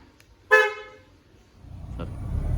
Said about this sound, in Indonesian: bisa klakson pakai remote